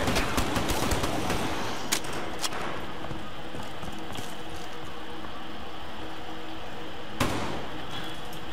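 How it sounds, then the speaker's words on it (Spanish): A machine gun fires in Call of Duty Black Ops 3 Zombies mode. Sharp rapid bursts and scattered shots crackle at moderate volume over a noisy game background. "Una ametralladora, perfecto."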